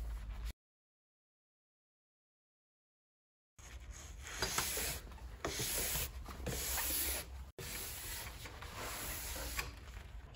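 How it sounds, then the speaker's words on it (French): Brush strokes scrubbing the base of a cross-country ski, a rough rhythmic rubbing in several bursts after a stretch of silence, close and fairly quiet. "Passez ensuite énergiquement la brosse à 5 reprises pour nettoyer votre semelle"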